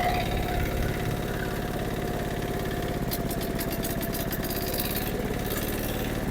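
Old Japanese step-through motorcycle engine pulling steadily in second gear on a dirt laterite track, a continuous near drone with a brief rattling patch midway and no talk.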